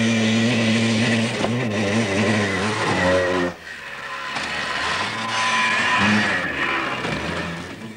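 A 125cc motorcycle engine revs steadily and loudly close by, its pitch rising and falling over several seconds with a brief dip midway before climbing again.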